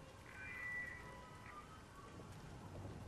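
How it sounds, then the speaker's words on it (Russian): Steady rain falls in a video game, a soft continuous hiss with faint low rumbling beneath, quiet and even throughout with no voices. "Так, опять дождик пошел."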